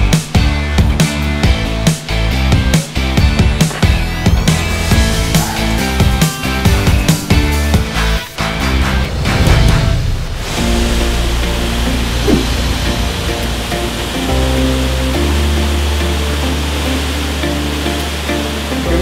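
Nine Thieves waterfall, a nine-tier cascade in Ratchaburi, Thailand, becomes a steady, loud rush of falling water in the second half, after a stretch of rhythmic music, with no talking.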